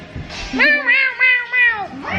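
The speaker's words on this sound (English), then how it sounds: "Kitty's so loud, huh?" A cat meows loudly and insistently, a drawn-out wavering cry broken into several pulses, close by.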